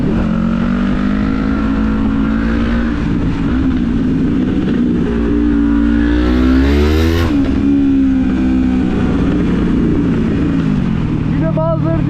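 Yamaha MT-25 motorcycle engine revving on a ride, a loud close buzz that climbs sharply in pitch, drops back, and revs again, with brief talk near the end.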